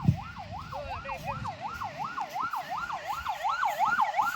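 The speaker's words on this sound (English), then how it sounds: "You can see the ambulance departs with the emergency doctors, trained EMT technician and a nurse carrying essential trauma equipment." An ambulance siren wails in a steady repeating up-and-down sweep as the ambulance departs, clear and fairly close, carrying across the full clip with low traffic rumble beneath.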